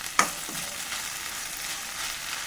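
Okra stir-fry sizzles steadily in a pan over a low flame, with a sharp scrape of stirring at the start and a softer one shortly after, the gentle frying hiss continuing close and even.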